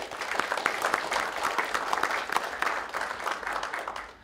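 An audience at a candidates night for town selectman applauds, a steady patter of many hands clapping at moderate distance for the whole stretch.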